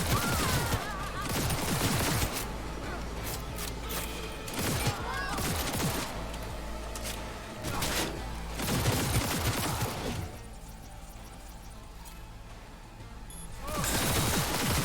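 Bursts of rapid tech-gun fire in Cyberpunk 2077 combat, several loud volleys separated by short pauses, with a sharper crack near the end and game sound filling the gaps.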